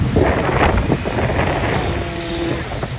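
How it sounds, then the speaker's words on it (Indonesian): Strong wind buffets the microphone near a truck on the road, a loud continuous rumbling roar with gusty swells and no clear speech. "Angin kencang ini, bos."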